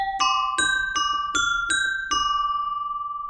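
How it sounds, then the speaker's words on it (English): A dry, synthesized baby bell voice from a MegaMagic patch plays six bright, pinging struck notes at a steady pace, each ringing briefly and decaying cleanly with no reverb or loop, and no talking over it. "Baby bell. Here it is dry."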